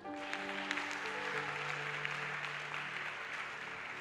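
A church congregation at a worship service clapping, a dense, steady wash of applause with faint sustained tones of a keyboard or organ beneath, holding evenly throughout without speech.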